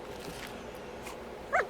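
A dog in the video game The Thaumaturge gives one short, sharp bark near the end, standing out over a quiet, steady game ambience.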